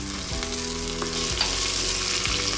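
Garlic-ginger paste sizzling and frying in hot oil with reddish-browned onion for a Marathi veg pulao, a steady close crackling hiss with faint stirring scrapes and no talk.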